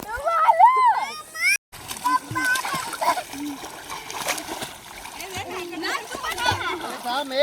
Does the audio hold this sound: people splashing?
yes